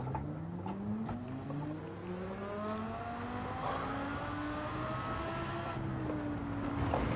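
A race car engine in Gran Turismo 7 revs up and down continuously, pitch sweeping through gear changes at close, steady volume.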